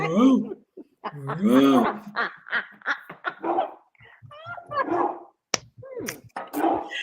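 Voices chatter and laugh while one person imitates a long, drawn-out dog bark, a stretched, wavering vocal howl that rises and falls amid lively conversation and giggles.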